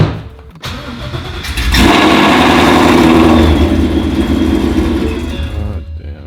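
A Ford Mustang fitted with a very loud aftermarket exhaust starts up after a short pause, then roars and revs hard up close before settling into a loud, rumbling idle, with no voices.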